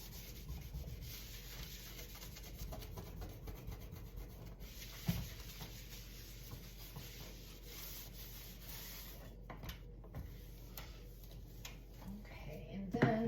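Cleaning paste being scrubbed over tough spots on a stovetop gives a steady, close rubbing and scraping sound with a brief knock partway through, alone and at a moderate level.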